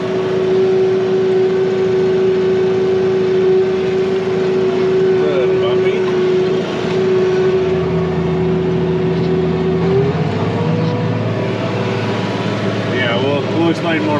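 Steiger Cougar tractor engine running while tilling a field in a lower gear, a steady close drone with a constant hum whose pitch shifts partway through.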